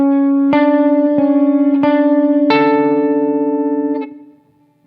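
Electric guitar picking a riff through effects, bright repeating harmonic notes with chorus and delay shimmer, two patterns played back to back before the tone fades into a brief pause.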